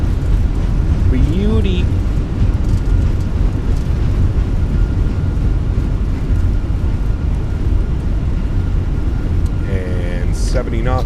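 Steady loud roar of an Airbus A321's thrust reversers during landing at Vienna in a flight simulator, a continuous broadband rumble through the whole stretch, with someone briefly speaking over it.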